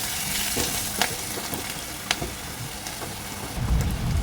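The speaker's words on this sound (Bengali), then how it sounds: "পেঁয়াজটাকে খুব ভালো করে এক মিনিটের মতো ভেজে নেব" Chopped onion frying with salt in a pan, a steady close sizzle with intermittent scraping clicks as it is stirred, continuing alone without talk.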